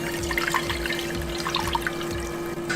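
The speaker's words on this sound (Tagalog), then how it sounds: "Put a lot of cold water until lumamig siya" Cold water pouring steadily into a large container to make a brine for chicken, a continuous close splashing trickle with bubbling highlights and a faint steady hum behind it.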